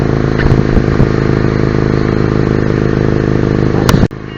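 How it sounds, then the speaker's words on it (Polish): Loud, steady engine drone with exhaust rumble close by from a Mitsubishi Carisma 1.8 116 hp car, a few light clatters, cutting off abruptly near the end. "jak się słucha dźwięku silnika i tłumika"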